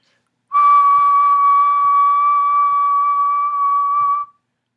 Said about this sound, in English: So I'll just go ahead and record a whistle